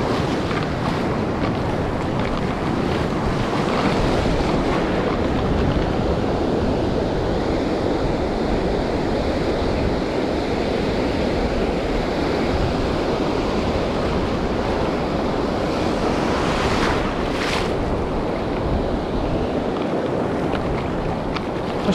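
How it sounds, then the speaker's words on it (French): Big ocean waves roll and break on a beach during wader fishing, a steady, loud wash of surf mixed with wind buffeting the microphone, continuous and close for the whole stretch with no talk. "il y a des grosses vagues des fois"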